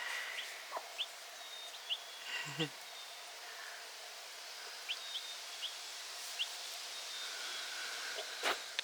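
A mother hen chattering at her hatchlings, with short high chirps and peeps scattered over a quiet indoor background and a few soft knocks.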